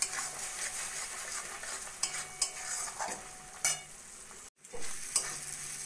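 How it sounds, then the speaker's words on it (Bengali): Prawns fry in a coconut and mustard sauce with a soft, continuous sizzle, broken by scrapes and clinks of a stirring utensil against the pan and a brief gap near the end. "নারকেল সর্ষে দিয়ে চিংড়ি মাছ 3-4 মিনিট মতো রান্না করে নিয়েছি।"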